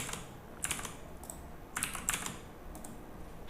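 Computer keyboard typing while setting up a programming script, a few quick clusters of crisp key clicks, including an Enter press, fairly close and light against a quiet room with no talking.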